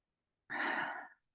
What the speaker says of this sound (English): And you're going to breathe in